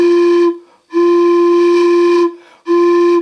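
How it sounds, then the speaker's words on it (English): A homemade steam whistle made from a short, small-diameter pipe and blown by mouth gives three loud, steady, high-pitched whistle blasts separated by brief breathy gaps, heard close. "So that's the sound of a small diameter short one."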